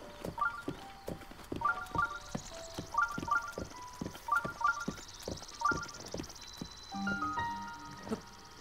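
Horse hooves clip-clop in steady, repeated bursts of quick beats in the video game Zelda: Breath of the Wild, with a sustained tonal music or ambient layer running underneath and no talking.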